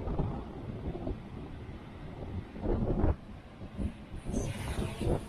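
Strong wind buffeting the microphone at the seaside on Beihai's Silver Beach in Guangxi, a steady low roaring rumble with gusty surges throughout and no talking.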